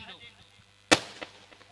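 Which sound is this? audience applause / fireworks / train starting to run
fireworks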